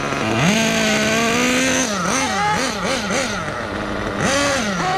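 Kyosho USA-1 nitro RC monster truck engine revving at high RPM: a loud, close, buzzing two-stroke whine that holds steady, then dips and surges through several quick throttle blips before rising again.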